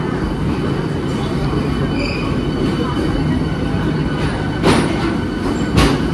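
Loud, continuous rumble of a 12-coach AC electric local train on the Sealdah–Ranaghat line, wheels grinding on rails with a couple of sharp metallic clanks near the end.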